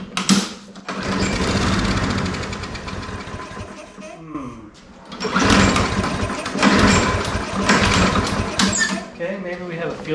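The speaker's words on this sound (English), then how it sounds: "Let's see if we can get it started on ether" Small lawnmower engine sprayed with ether sputters and runs in loud rough bursts, with several pauses between firing attempts as it struggles to start.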